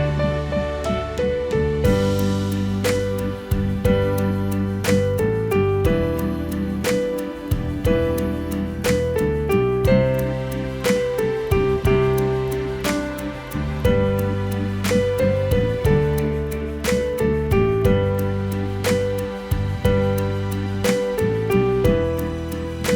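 Piano playing the chorus of a song in a simple beginner arrangement, sustained chords and a flowing melody played close and loud without a break.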